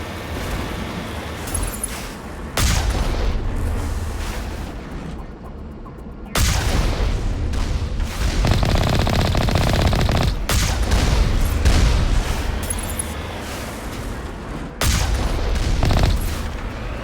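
Heavy cannon fire from a ship's gun in the space game The Legend of Shepard, sustained booming blasts in long dense bursts separated by brief lulls, loud and close with no voices.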